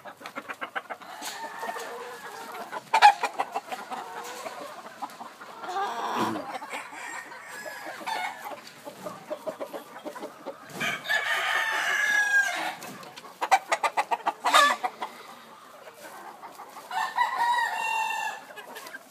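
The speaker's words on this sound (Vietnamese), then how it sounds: "Đây là gà cú" Peru cross gamefowl chickens cluck and crow repeatedly, several birds calling over one another at varying distances, with scratchy bursts and a rooster's crow standing out among the flock.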